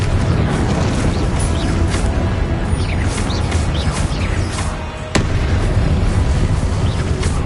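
Repeated Confringo blasting-curse explosions in the Hogwarts Legacy video game, a steady run of loud bursts and pops over dense rumbling battle noise, with one sharp crack standing out near the end.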